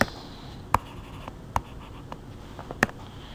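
Marker or chalk strokes writing symbols on a board in a statistics lecture, a few short sharp taps and scrapes spaced irregularly against a quiet room, with no talking.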